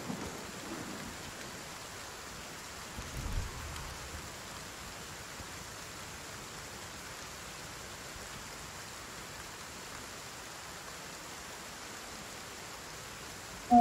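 Heavy downpour in the video game Force of Nature 2: Ghost Keeper, a steady dense hiss of rain with a faint low rumble, continuous and uniform throughout with no talk.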